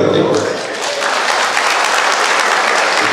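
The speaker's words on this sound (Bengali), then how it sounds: "আমরা সবাই দাঁড়িয়ে তার জন্য করতালি দেব" Loud, dense applause from a large crowd welcoming a speaker at a political gathering, continuous throughout, with voices mixed into the clapping.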